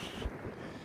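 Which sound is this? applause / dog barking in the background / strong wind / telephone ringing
strong wind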